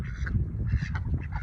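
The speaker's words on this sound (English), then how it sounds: "Naughty ducks. Don't you quack me." Ducks quack and honk in a busy, overlapping jumble, close by and fairly loud, with several calls rising over a steady low rumble.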